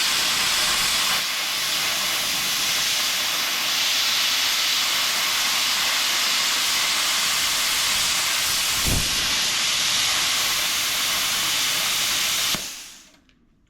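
A plasma cutter cutting thick, dirty steel: a loud, steady hiss roars continuously for about twelve seconds with a brief sharp crack partway through, then cuts off abruptly.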